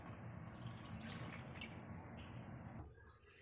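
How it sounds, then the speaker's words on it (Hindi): Water is poured into a glass, a steady close splashing stream that runs for a few seconds and then tapers off quietly. "मैंने यहाँ पे 1 गिलास मैंने पानी डाल दिया है"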